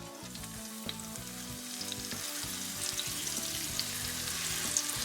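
Constant loud sizzle of a beef roast searing in hot oil in an enameled cast iron pot, an even crackling hiss that holds throughout with small pops and a low background tone.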